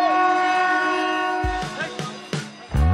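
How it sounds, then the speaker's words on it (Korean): Train approaching on railway tracks that run through a market in Bangladesh: a loud sustained horn sounds first, then heavy rhythmic clanking and rumbling of the cars close by. "진짜 기차가 옵니다."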